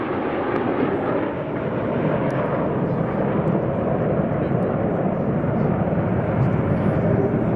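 Red Arrows jets trailing coloured smoke during a flying display at the RAF Cosford 2019 air show give a loud, continuous, broadband jet roar that holds steady throughout.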